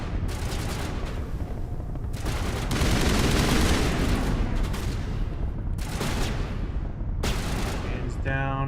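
Sustained, loud gunfire from the video game Mass Effect Legendary Edition, firing against Batarians, bursts into dense rapid volleys with brief gaps, continuing almost without pause across the whole stretch.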